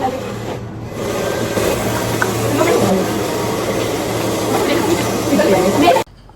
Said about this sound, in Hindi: अब बालों को ड्रायर करते हुए यूँ निकलते हैं